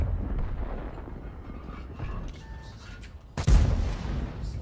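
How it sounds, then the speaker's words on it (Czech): A heavy boom bursts out after a stretch of low rumbling game noise, a single loud cannon-like blast with a sharp attack and rolling low tail. "To je naprosto skvělý to dělo."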